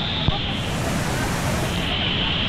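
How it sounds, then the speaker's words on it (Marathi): Steady, dense roar of the Kalu waterfall on the Adrai trek in misty monsoon conditions, a continuous broadband rush heard from across the valley with no break across the whole stretch. "जो धबधबा आहे तो असा दिसतोय"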